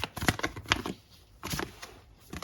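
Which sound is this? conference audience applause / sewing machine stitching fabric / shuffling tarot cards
shuffling tarot cards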